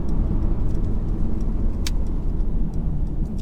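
A 2018 Mercedes C300D cabriolet with a 2.0L diesel engine, driven in Sport Plus on a B road: a loud, steady wash of engine and road rumble from inside the car, with no talking.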